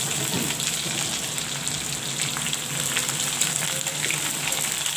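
Chopped onions frying with garlic, slit green chilies and cumin seeds for a white pumpkin dish, giving a steady, dense sizzle with faint stirring, no talk.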